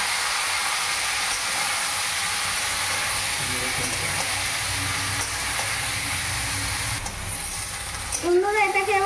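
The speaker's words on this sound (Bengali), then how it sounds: "এরকমভাবে ভালো করে নাড়াচাড়া করতে হবে।" Tomatoes fry over a high flame in a pan, giving a steady, loud sizzling hiss with soft stirring scrapes throughout and a brief tonal sound near the end.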